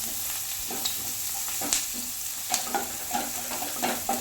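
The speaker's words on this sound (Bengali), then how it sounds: "একটু ভাজা ভাজা করে নেব পেঁয়াজটা।" Chopped onions frying in a pan with a little sugar for butter chicken, a steady close sizzle broken by occasional scrapes and knocks of a spoon as they are stirred.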